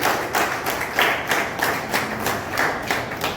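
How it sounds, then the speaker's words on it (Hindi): An audience claps in a rhythmic, steady beat of roughly two claps per second to welcome guests at an Air Force Day event in Modinagar, moderately loud and without talk over it. "ताली बजती रहनी चाहिए कम से कम इनके लिए।"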